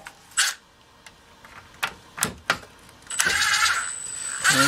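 A Troy-bilt TB516 EC small engine being turned over: several sharp pulls crank it in uneven bursts, then it catches and runs with a steady, loud buzzing drone close by.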